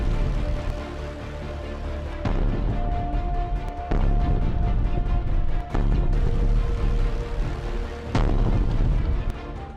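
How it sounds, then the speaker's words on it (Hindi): Repeated loud blasts near a trolleybus depot in Luhansk, with several sharp booms coming one after another over a continuous rumbling din. "यूक्रेन के लुहांस्क में ट्रॉली बस डिपो के पास एक के बाद एक 5 ब्लास्ट हुए"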